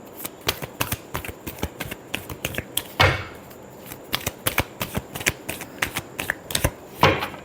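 Tarot cards being shuffled by hand, a quick run of crisp papery flicks and taps with a couple of heavier riffles, close up with no speech.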